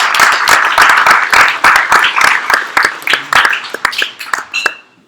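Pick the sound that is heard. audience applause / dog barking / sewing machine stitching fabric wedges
audience applause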